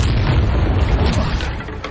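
A Confringo blasting spell detonating in Hogwarts Legacy, a loud, deep explosive boom with rumbling low-end that sustains and slowly fades over a couple of seconds.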